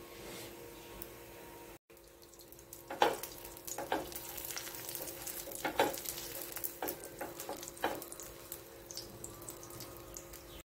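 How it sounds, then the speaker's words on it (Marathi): Pav bread toasts in ghee on a hot pan, giving a soft continuous sizzle with scattered crackles and scraping taps as the bread is pressed and moved, close and fairly quiet. "मी तो तूप टाकलेला आहे। असं भाजून घ्यायचं आहे।"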